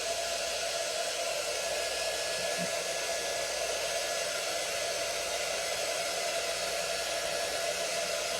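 A hair dryer blows steadily and loudly the whole time, drying freshly painted door hanger pieces shaped like strawberries, a constant close whoosh with no talking.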